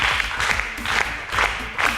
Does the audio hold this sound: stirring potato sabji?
no